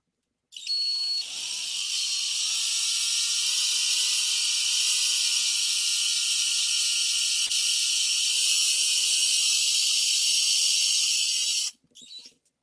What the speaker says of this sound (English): let's go ahead and drill a hole into the top here